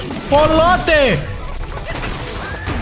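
A structure smashing apart in Angry Birds, a short crashing break mixed with cartoonish game sounds and chirps, heard under someone talking.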